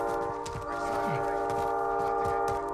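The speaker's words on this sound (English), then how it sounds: "Watch that train, Mike." A train in Call of Duty Modern Warfare rumbling past with a steady, sustained tonal drone and low rolling thumps, heard under gunfire-like thuds and player chatter.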